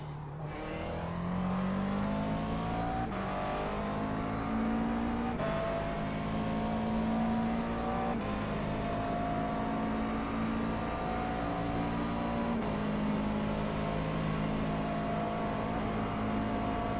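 A McLaren MP4 12C GT3 race car engine at Bathurst in the iRacing sim, close and loud, its pitch climbing steadily through several gears with brief dips at each upshift.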